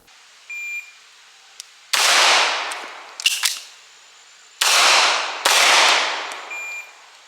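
Handgun shots ring out on a low light training range: one single blast, a quick pair, and two more loud shots, each with a long fading echo, interspersed with faint beeps and a brief clatter.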